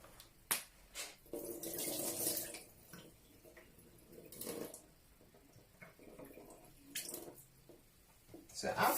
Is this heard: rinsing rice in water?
yes